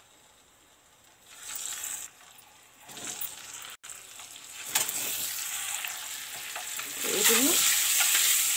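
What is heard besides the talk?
slit boiled eggs frying in a pan for egg tomato curry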